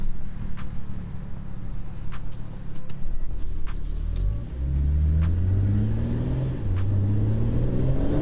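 A 2021 BMW G82 M4 Competition engine revs and accelerates heard from outside the car, a steady low drone rising into loud sweeping upshifts that climb in pitch several times.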